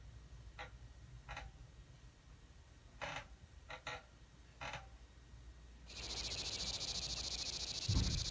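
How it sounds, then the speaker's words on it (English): Cricket chirping effect from The Sims 2 in a cabin scene, several short, faint, spaced bursts over a low hum, followed by a louder continuous buzzing texture toward the end. "Again, the really bad grasshopper sound."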